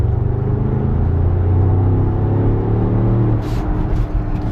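A Range Rover Sport SV L461 with its exhaust valves shut accelerates, giving a loud, steady, low rumble that rises slightly in pitch and then eases off near the end.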